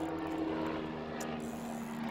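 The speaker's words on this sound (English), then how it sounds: "That's our drone, our new drone." A camera drone flying overhead, giving a steady whirring propeller drone with a constant hum that stays fairly faint and even throughout, with no talking.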